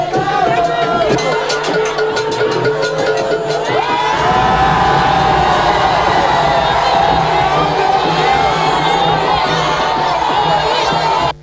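A huge crowd cheers and shouts at a traditional king's installation ceremony at a town hall, with a loud, sustained roar of voices, whoops and rising cheers that swell midway and carry on without pause.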